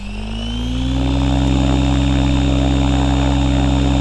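An electric REX700 F3C radio-controlled helicopter motor spins up, its steady whine rising in pitch and loudness over the first second before holding a strong, constant tone with rotor hum, close by and without talk.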